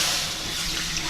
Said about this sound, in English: You're gonna pour the water in there.